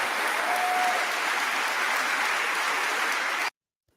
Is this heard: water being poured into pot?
no